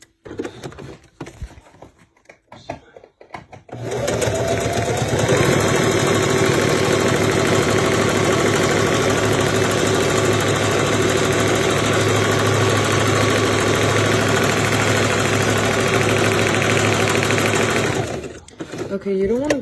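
A sewing machine stitches eyelet leather pants in one steady, loud mechanical whir lasting about fourteen seconds, with handling noises just before and after.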